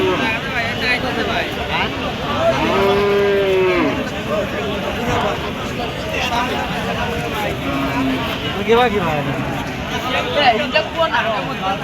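Cattle low and moo at a busy rural cattle market in Kazipur, Sirajganj, Bangladesh, several drawn-out calls standing out over constant crowd babble and nearby talk.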